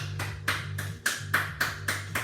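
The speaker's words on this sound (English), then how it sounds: "Take your hands together and give yourself a clap." A single person claps at the end of an online Pilates weights class, about eight sharp, evenly spaced claps picked up close over a low steady hum.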